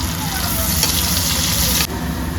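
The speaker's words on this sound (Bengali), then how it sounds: "আলুগুলোকে দু মিনিটের জন্য ঢাকা দিয়ে একটু ভেজে নেব" Potatoes fry in oil in a covered pan, giving a steady, close sizzle that holds evenly throughout and softens abruptly near the end.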